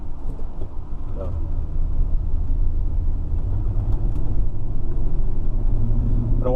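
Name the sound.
1967 Pontiac Le Mans car engine accelerating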